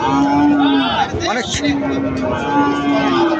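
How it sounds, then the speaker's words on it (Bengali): A calf at the Chandaikona cattle market in northern Bengal lets out a long, loud, close moo, then a second drawn-out moo after a short break, with faint market bustle behind. "অনেক সুন্দর কিউট বাছুর"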